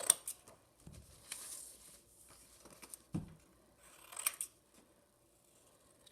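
Scissors snip through paper while cutting out circles, giving a few quiet, close crisp cuts separated by pauses and faint rustling.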